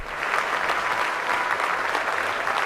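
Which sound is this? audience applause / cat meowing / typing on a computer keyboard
audience applause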